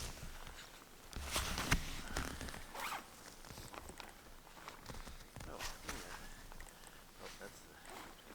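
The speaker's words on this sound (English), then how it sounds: "That's the 2 zippers." Two zippers being opened in close succession during the retrieval of an SLS Artemis model rocket, sharp ripping zips up close with rustling and footsteps around them.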